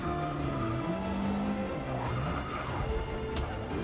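A formula race car corners in Forza Motorsport 6, its engine whining and shifting pitch over a faint tire squeal, steady and fairly quiet with no talk.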